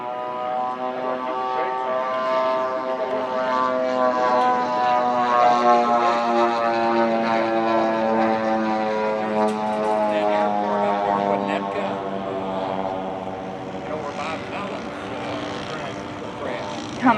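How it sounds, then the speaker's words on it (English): A silver B-25 Mitchell bomber flies by at an air show, its twin propeller engines droning loud and steady with a rising and falling tone over many seconds. "Following in John is Mark Johnson flying his silver B-25 Mitchell."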